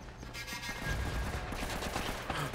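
Turret gunfire in Uncharted: Drake's Fortune rattles in a rapid, steady burst of shots, moderately loud and somewhat distant, continuing throughout with no talking.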